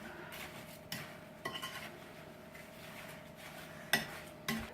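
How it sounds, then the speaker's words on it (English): Spices stirred into pie filling in a bowl, a quiet scrape and clink of a utensil against the dish with a few sharper taps spaced irregularly, close and faint in an otherwise hushed kitchen. "I just mix it"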